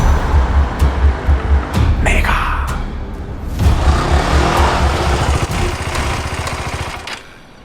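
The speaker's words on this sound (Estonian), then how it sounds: "Mahe ühesilindriline mootor." A Husqvarna Svartpilen 701 single-cylinder motorcycle engine pulses with a rhythmic, thumping beat as the bike rides past, loud and close, revving up and then fading toward the end.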